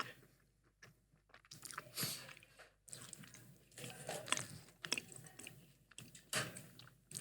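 Cookies being chewed close to the mic, with irregular crunchy bites and moist mastication repeating over several seconds, fairly quiet and with no talking.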